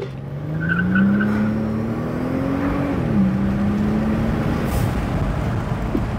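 A Mercedes CL65 AMG V12 engine idles nearby with a steady, deep rumble that rises slightly and settles, with no talk over it.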